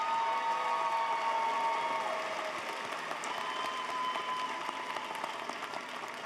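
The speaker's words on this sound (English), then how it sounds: "Let's applaud our College of Arts, Letters, and Sciences graduates" Audience at a university fall commencement ceremony applauds graduates with steady, moderately distant clapping that holds for several seconds and slowly thins out.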